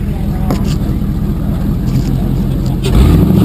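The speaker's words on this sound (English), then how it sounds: "Listen to that motor. Sounds good." A 2000 Chevy Silverado pre-runner extra cab truck idles steadily with a low, rumbling engine note that swells slightly near the end, with faint background noise.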